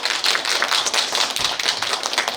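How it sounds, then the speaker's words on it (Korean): Audience applause at a children's choir information session, steady dense clapping from many hands throughout, fairly loud and continuous with no voices over it. "박수 부탁드리겠습니다."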